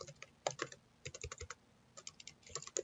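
Typing on a computer keyboard while entering data in Microsoft Access: quick clusters of close, crisp keystrokes in three short bursts with brief pauses between, and no voices.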